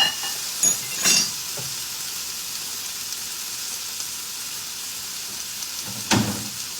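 Food frying in a pan gives a steady, close hiss of sizzling throughout, broken by a few brief louder bursts and clinks, with no talk.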